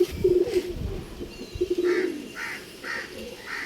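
Pigeon cooing close by, a male bird offered for sale in Bangalore, with several soft repeated coos and faint chirps over low background rustle.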